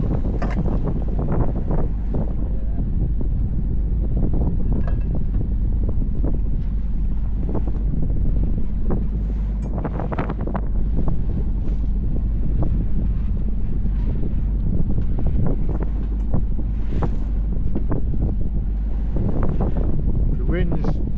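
Wind blowing hard across a sailboat entering the Fleetwood channel, a constant loud low roar and buffeting on the microphone with water and boat noise beneath, while people talk throughout.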